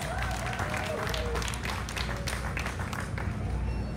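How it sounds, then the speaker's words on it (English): Crowd applause for the wives at an outdoor LIUNA Local 183 union family day, steady clapping from a large gathering with some voices mixed in under a constant background hum. "let's give it up for the wives here today, because they deserve a big hand of applause"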